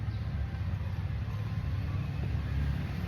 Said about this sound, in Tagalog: Maingay kasi nasa highway tayo guys.